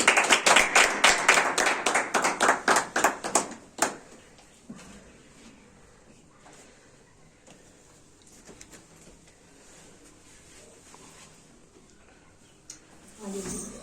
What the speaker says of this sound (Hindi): खुदा के कलाम के लिए, खुदा के खादम के लिए जोरदार तालियां।